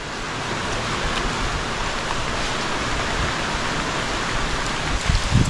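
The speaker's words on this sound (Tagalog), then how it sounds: "Tubig ulan." Rain pours steadily outdoors, a dense, even hiss that holds at constant loudness throughout, with a few faint knocks near the end and no talk.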